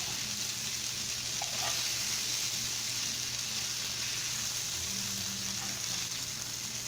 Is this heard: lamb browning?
yes